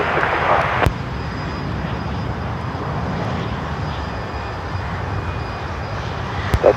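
An airliner takes off at Seattle-Tacoma International Airport, its engines a sustained loud broadband roar heard from a distance, with a couple of sharp clicks at the start and end.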